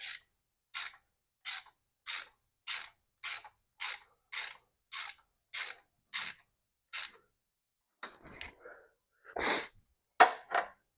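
A ratchet wrench tightening a bolt on a Jeep clicks in about a dozen evenly spaced bursts, close and crisp, followed by a brief pause and a few irregular final clicks and rustles, with no talking.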